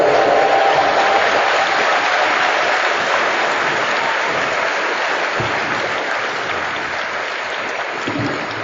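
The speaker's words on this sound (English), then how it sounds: "Big round of applause" Dense, loud applause from a large audience at a Game of Thrones comic con panel, a continuous wash of clapping that holds steady throughout and eases only slightly near the end.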